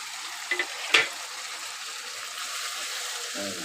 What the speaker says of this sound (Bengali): এখন আমি সবজিগুলো দিয়ে দেবো পেঁয়াজ টমেটো আর ক্যাপসিকাম কাঁচা লঙ্কা